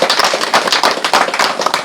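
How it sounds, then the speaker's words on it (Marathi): A crowd gathered for a birthday congratulation claps hands loudly, a dense, continuous burst of applause close by. "आपण सगळ्यांनी एकदा जोरदार टाळ्या वाजवून त्यांना अभिनंदन केले"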